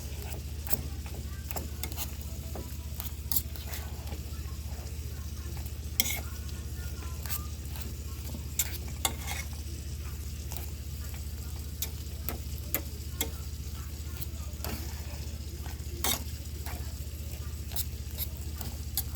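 Creamy potatoes stirred in a pot for a Sunday dinner, a low steady background with repeated soft scrapes and light clicks of the utensil against the pot, close and unhurried, with little or no talk.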